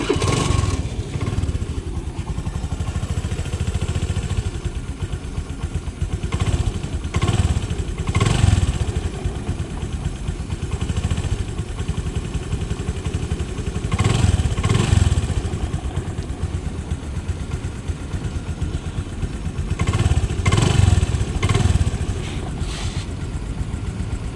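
A used 2012 vehicle with about 58,600 km on it idles steadily after being started, a continuous low engine rumble with periodic louder surges and light mechanical clatter, close by and without talk.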